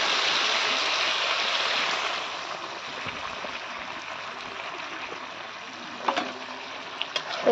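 Water pours into a pot of braised chicken curry with potatoes, a steady rushing splash for the first two seconds that then thins to a softer trickle, with a few small knocks near the end.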